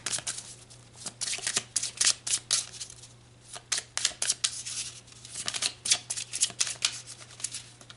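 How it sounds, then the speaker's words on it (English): A deck of tarot cards is shuffled and cards are pulled, giving a steady run of close, crisp riffling flutters and slaps with a faint constant hum beneath. "So let's pull some more cards and dig a bit deeper."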